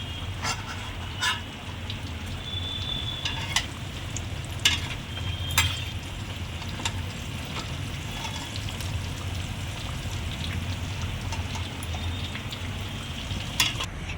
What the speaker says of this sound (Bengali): আমার ভাজা প্রায় সবই শেষ হয়ে গেছে